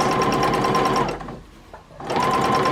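A sewing machine doing free motion stitching on a Dresden quilt runs in a steady, close, loud whir, pausing briefly in the middle before starting up again, with no talking.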